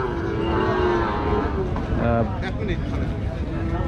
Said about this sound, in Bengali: এখানেও দেশি গরু এগুলো দেশি ছোট ষাঁড় গরু দেখছেন এই লটগুলো